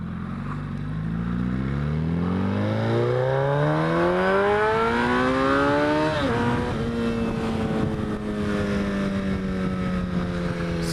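A motorcycle engine revs up steadily through rising gears, then drops and holds a steady drone, loud and close throughout with no talking.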